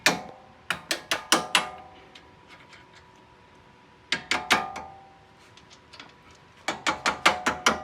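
A ratchet works the coilover strut bolts on a Genesis in three quick bursts of sharp, rapid clicking. Close, crisp ticks are separated by short pauses, with no talk.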